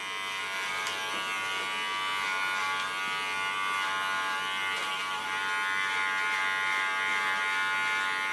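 Electric hair clipper cutting hair in a salon, a steady close buzzing hum with a bright whine that runs unbroken throughout.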